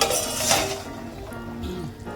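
A lid is set on a cooking pot of thin fish curry with potato and drumstick, giving a brief metallic clink and clatter at the start followed by softer kitchen sounds.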